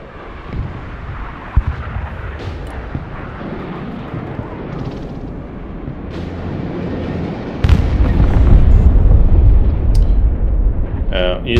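Aircraft and airstrike explosions in the game Broken Arrow, a continuous rumbling roar with scattered booms that grows heavier and louder toward the end.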